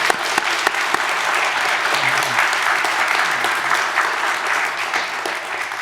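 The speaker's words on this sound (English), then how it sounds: "let's give him a hand of applause" An audience gives sustained, even applause for Jason Frierson, Nevada's first Black U.S. Attorney, at an interview event, with a few sharper claps standing out and a faint voice briefly heard underneath.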